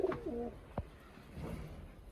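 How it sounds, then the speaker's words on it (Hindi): Caged pigeons on a farm give soft, low coos: a burst of several at the start, then a fainter run near the end, with quiet barnyard background in between. "तो कबूतर चारों ही पिंजरे में हैं।"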